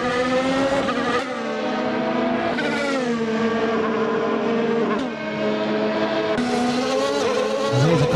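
Race cars in a sim racing game, a loud, steady engine drone with shifting revs and gear changes as the cars run downhill into a left-hander, engines dominating throughout.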